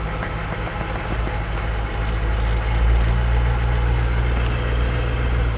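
Humvee engine running off-road while one wheel spins, a steady close, loud low rumble with a constant drone and no speech.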